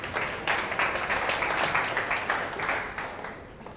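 Applause from a group at a gathering, steady and fairly loud, clapping continuously and then easing slightly toward the end, with faint voices underneath.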